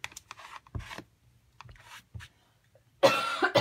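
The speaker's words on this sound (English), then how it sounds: "That way I can have this coughing fit without you guys having to listen to it" Several short, harsh coughs scattered through a quiet stretch, ending in a louder, longer burst of coughing up close.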